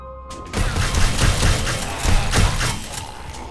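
An automated turret in 7 Days To Die fires at zombies, a rapid burst of heavy thudding shots after a short quiet start, loud and close, with several surges over a few seconds.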